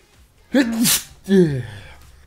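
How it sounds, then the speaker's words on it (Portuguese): A single loud sneeze with a sharp intake of breath followed by an explosive burst, up close with no talking. "Eu ia espirrar e vou ainda"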